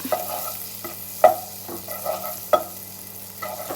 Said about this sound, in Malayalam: അതിലേക്ക് നമ്മൾ ഈ വെളുത്തുള്ളി ഒന്ന് മൂപ്പിച്ചെടുക്കാം.